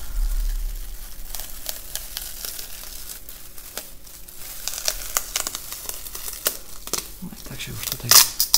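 Painter's tape being peeled off a freshly painted staircase wall coated in decorative paint, a run of close crinkling and tearing bursts that build toward the end, with no talking over it.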